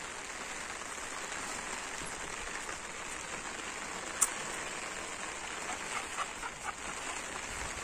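Steady rain falls on a rural farm property, a soft, even hiss of drops continuing throughout, with one faint sharp tap and a few small knocks standing out near the end.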